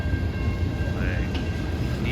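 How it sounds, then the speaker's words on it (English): A Norfolk Southern and BNSF ethanol freight train rolls past in a rainstorm in Greensboro, North Carolina, with a loud, continuous rumble and a sustained tonal squeal, steady throughout. "Be an ethanol train here."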